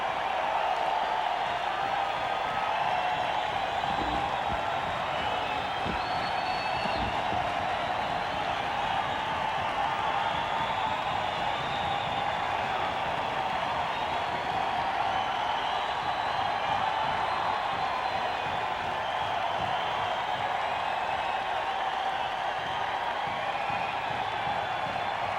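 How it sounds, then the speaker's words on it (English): A large concert crowd roars and applauds continuously during a song, a dense wash of cheering and clapping that stays steady throughout. "That is a happy crowd of people."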